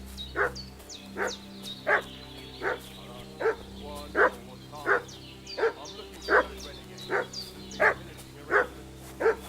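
A dog in the medieval video game Kingdom Come: Deliverance II barks about ten times in a steady, evenly spaced rhythm, moderately close, over a low ambient game soundscape.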